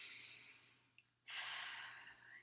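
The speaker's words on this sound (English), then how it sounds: "Yes, breathing." A person breathing near the microphone, a slow exhale fading out, a brief catch, then a strong rushing inhale that tapers off, over a faint steady hum.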